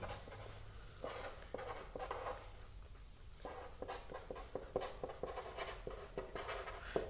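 Chalk or a marker taps and scratches against a board in short irregular strokes while equations are worked out, fairly quiet and continuous over a low room hum, with no talk.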